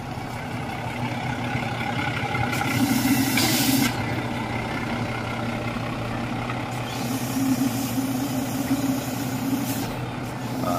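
A large tour bus engine with a Dragos 2 body by Final Coach Builder idles with a steady low rumble, broken by short bursts of air hissing from the brakes.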